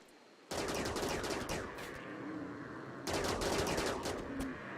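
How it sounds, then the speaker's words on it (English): Charge-shot weapons in the video game Rimworld fire a rapid rattling volley that starts abruptly, fades, then surges again in a second loud burst of dense gunfire. "this takes a whole bunch of charge shots"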